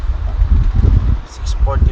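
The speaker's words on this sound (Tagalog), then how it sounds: "ayan na yung humahangin na siya." Wind gusts roar across a microphone outdoors in a steady low rumble, with a faint muffled voice in the background.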